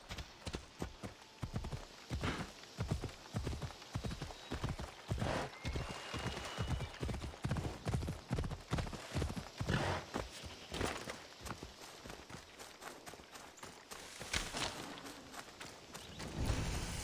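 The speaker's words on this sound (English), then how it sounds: "Horsey!" Horse hooves clip-clop steadily through a video game while rescuing Sokrates from jail, a dense rhythmic run of close hoofbeats that continues for most of the stretch before thinning out near the end.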